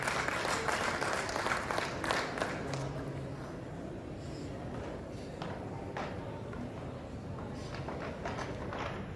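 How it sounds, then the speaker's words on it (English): Conference attendees at an East African textile and fashion event applaud as a speaker comes on stage, moderate clapping that fades into scattered claps and room noise. "Kindly a round of applause as he comes on stage"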